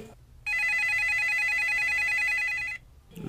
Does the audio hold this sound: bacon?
no